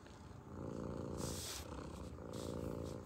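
A pet cat purring steadily up close, a soft continuous rumbling with a gentle breathing rhythm, with no talking over it.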